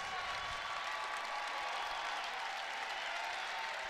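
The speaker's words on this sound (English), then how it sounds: "It's a nice ovation from the crowd here inside PBA." A home crowd at a women's college basketball game in Nebraska's arena gives a steady, sustained ovation, dense applause that holds evenly throughout.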